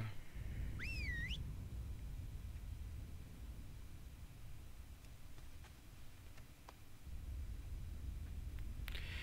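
A short, bright, two-toned rising whistle in a World of Warcraft quest with tamed boars sounds once near the start, then fades into a low rumbling ambient bed with faint ticks.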